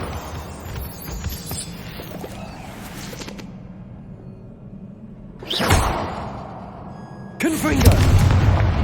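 A Confringo fire spell in Hogwarts Legacy lets out a sharp whooshing blast, then a second burst follows moments later over a low rumbling game backdrop.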